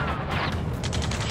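Dense, rapid gunfire in an Ace Combat 7 battle, a continuous loud fusillade of sharp bursts with machine-gun chatter, heard alone with no voices.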